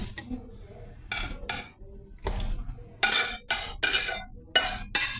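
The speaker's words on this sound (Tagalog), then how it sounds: "I-mix ko siya ngayon dito" Food is stirred in a metal pot with sauce, the spoon scraping and clinking against the sides in repeated bursts of close, clattering strokes.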